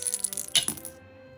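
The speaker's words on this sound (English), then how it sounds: "A roll of dice." Dice rolled onto a hard surface, a quick burst of clattering rattles and bounces over about a second before settling into quiet.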